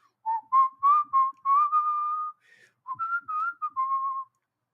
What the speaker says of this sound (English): Oh, I also enjoy whistling.